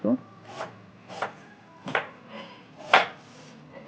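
A knife cuts onions on a board for a spicy snack, making about five separate dull chops with short gaps between them. The chops are close and moderately loud, with a faint rubbing sound in between.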